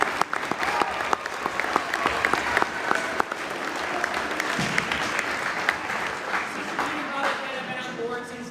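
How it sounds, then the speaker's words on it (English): An audience at a St. John Fisher club event applauds Father Ken and Sister Jean, steady close clapping with sharp individual claps standing out, continuing for several seconds with a voice briefly audible near the end. "so we can give them a round of applause"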